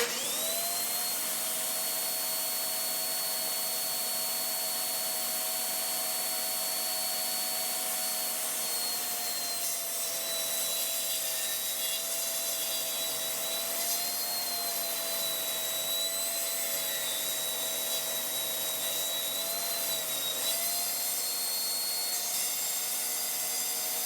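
A table saw runs with a steady high whine while cutting a board, a continuous, even rip sustained for over twenty seconds with a slight pitch dip partway through, alone without speech.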